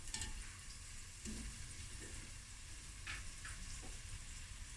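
Half an onion dropped into hot oil for a vegetable stir-fried rice, giving a faint, steady sizzle with a few soft clicks and stirring touches, quiet and continuous with no talk.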